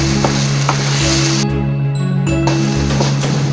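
Meat sizzles steadily in a hot pan, a continuous bright crackle with a low hum underneath, briefly dropping out partway through before resuming, with no talk.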